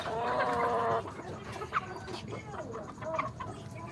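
Pumpkin Hatch hens cluck in short bursts close by, with a denser stretch of clucking at the start, over a steady low background rumble.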